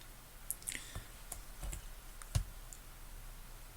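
Computer mouse clicks while drawing in FreeCAD, a few quiet, sparse taps spread over a hushed room background with no talking.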